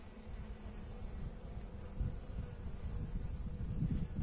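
Honey bees buzzing at a hive as they begin taking syrup from a feeder during the first spring inspection after winter, a faint steady droning hum close by with no talking.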